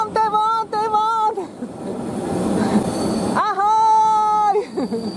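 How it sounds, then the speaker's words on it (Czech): A train passes near a rail track in the countryside, loud and close, with long tonal squeals and horn-like harmonic tones at the start and end around a rumbling middle stretch. "A to je vlak."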